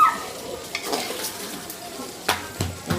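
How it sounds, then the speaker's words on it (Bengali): Mutton being stirred and sizzling with spices in a pan, a steady frying hiss broken by several sharp scrapes and clanks of a spoon against the pan, loud and close. "তার মটনটা আমি কষে নিচ্ছি ভালো করে সব মশলা দিয়ে।"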